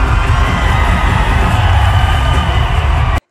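Audience at a Miss Universe preliminary competition screaming and cheering loudly, a dense continuous roar of crowd noise that holds steady for about three seconds and cuts off abruptly.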